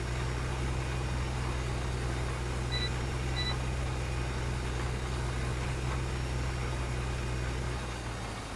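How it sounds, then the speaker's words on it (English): A phone notification during a Farming Simulator 2015 session: two short high electronic beeps in quick succession, clear but small against a steady low engine hum of idling farm machinery, with no talking. "My phone went off"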